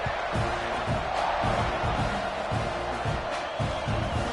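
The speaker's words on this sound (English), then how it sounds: "You think this crowd's going to get loud when their defense comes on the field?" A large stadium crowd at a Texas A&M vs Notre Dame football game roars steadily, a dense wash of voices with rhythmic low thumps pulsing underneath.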